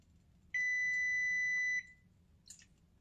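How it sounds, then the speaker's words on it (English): Kitchen timer going off in a home kitchen during cooking: a single sustained high electronic beep lasting just over a second, followed by a faint brief clink against quiet room background. "That's the timer going off, letting me know my pie"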